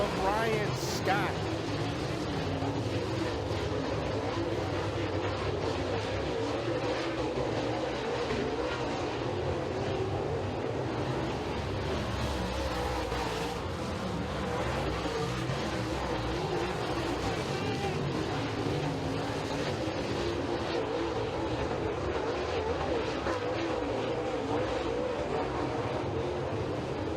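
Super late model race cars roaring around a dirt speedway during a heat race, their engines forming a dense, continuous drone with steady crowd-level noise, while an announcer talks over the track throughout.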